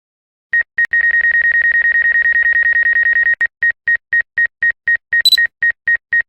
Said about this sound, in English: That beep that you heard is just the notification that you are getting close to an obstacle, your obstacle avoidance notification